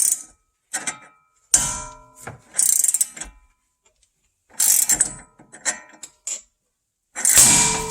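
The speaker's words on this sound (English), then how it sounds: "I have my 19 millimeter wrench here, and I'm just going to start tightening on it." A 19 mm wrench ratchets on a nut while a tie rod is removed during cross axis joint replacement on a Mustang rear suspension, producing short bursts of clicking pawl sounds separated by pauses, close and clear.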